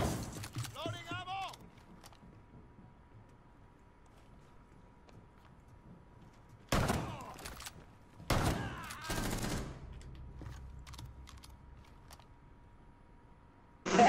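Gunfire in the tactical shooter Rainbow Six Siege comes as a few sharp, loud bursts of shots separated by long quiet stretches, with brief voices heard in between.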